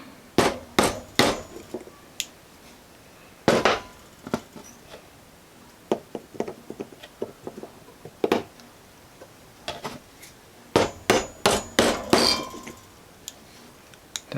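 Sharp metallic hammer taps drive pins into 3D printed watch parts in irregular bursts, some single, some in quick clusters, close and fairly loud against a quiet background.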